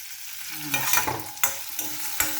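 Greens and tomato sautéing in a pan for a keerai paruppu dish, a sizzling hiss broken by several sharp scrapes and clanks of a spoon stirring against the metal, close and fairly loud.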